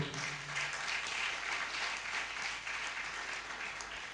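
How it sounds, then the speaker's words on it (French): A church congregation in Yopougon applauding together, a dense, steady wash of clapping from many hands that holds for several seconds before easing slightly. "Let's clap for Yopougon Acclamons pour Church."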